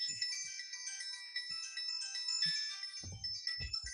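A phone ringtone plays as a bright, repeating electronic melody, fairly faint, with a few soft knocks and rustles underneath and no talking.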